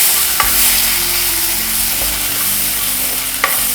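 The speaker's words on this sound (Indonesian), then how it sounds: "Kita tumis terlebih dahulu bumbu yang sudah kita haluskan." Ground spice paste stir-fried in hot oil, a loud close sizzle running throughout, with a few spatula knocks and scrapes against the pan and no talking.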